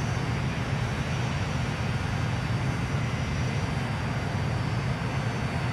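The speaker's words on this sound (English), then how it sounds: "Sounds like a proper jet, doesn't it?" Older-style jet airliner engine in Transport Fever 2, a loud, continuous roaring rumble with broad hissing wash, steady and unbroken with no pauses.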